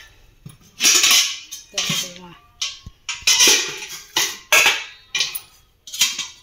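Antique brass buckets from Karaikudi are nested one inside another, giving a string of loud, close metallic clanks and ringing knocks, while someone talks between the impacts.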